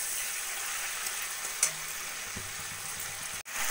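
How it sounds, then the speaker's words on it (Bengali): Prawns fry in mustard oil in a wok with salt and turmeric, giving a steady, close sizzling hiss with a few light stirring knocks and no voices. "চিংড়ি মাছগুলোকে একটু ভাজা ভাজা করে নেব।"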